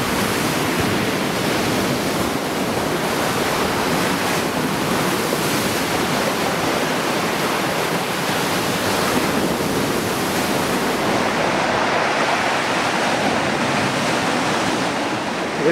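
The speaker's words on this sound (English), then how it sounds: "the seas are stirred up, and these waves are rolling in" Rough ocean waves roll onto a small beach in a cove in stirred-up seas, giving a continuous loud broadband roar of surf that hardly varies, with no voices.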